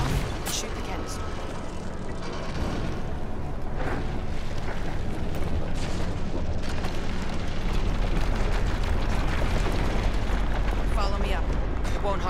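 A canister shot in Killzone Shadow Fall bursts into a dense, rumbling explosion that rolls on as a heavy roar for several seconds, loud and close, with voices talking over it.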